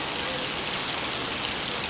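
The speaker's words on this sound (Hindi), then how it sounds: "आज बारिश जबरदस्त बारिश।" Heavy rain pouring down, a loud dense steady hiss with no breaks, alone without talk.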